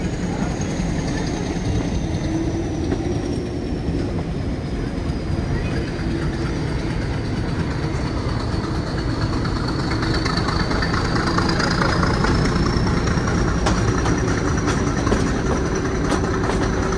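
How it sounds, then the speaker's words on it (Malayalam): The Ooty toy train rolls along its rails with a steady, close rumble and rattling wheels, a whining engine tone slowly rising and falling, and scattered clicks from the track. "വീണ്ടും ട്രെയിൻ മൂവ് ചെയ്യാൻ വേണ്ടി തുടങ്ങി"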